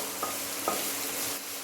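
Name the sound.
stirring chopped green chilies frying in a pan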